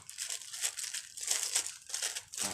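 A plastic bag is pulled over a grafted guava shoot, crinkling and rustling up close in several uneven bursts with no one speaking.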